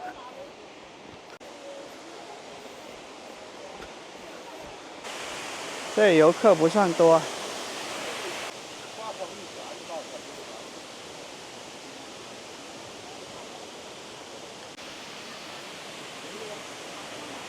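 A waterfall on Mount Lushan gives a steady, broad rushing roar throughout, fairly close, while people speak briefly over it partway through.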